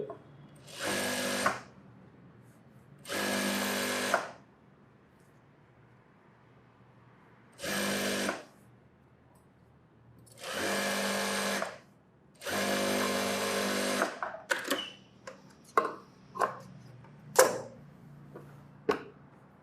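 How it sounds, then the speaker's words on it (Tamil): A sewing machine runs in short bursts while a blouse is roughly stitched, several separate runs of even whirring with pauses between, then a string of quick clicks and taps near the end. "நான் இப்போதைக்கு ரஃபாக தையல் போட்டுக்கிறேன்"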